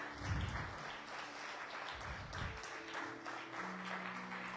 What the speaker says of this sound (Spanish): Denle un aplauso al Señor con ganas